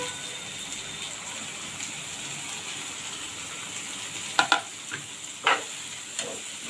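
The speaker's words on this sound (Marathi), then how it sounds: "याच्यामध्ये मी 2 हे टोमॅटो आहेत, लहान होते, बारीक चिरून घालत आहे" Finely chopped small tomatoes hit a pan of sautéing chopped onion, giving a steady close sizzle with a few louder scrapes and stirs near the end; no one speaks.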